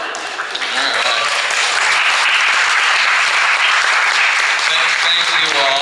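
Steady, dense applause fills a room at a Beverly Hills women's club volunteer dinner, many hands clapping loudly and continuously for several seconds with no break.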